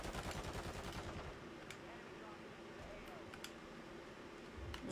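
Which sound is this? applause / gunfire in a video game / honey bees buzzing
gunfire in a video game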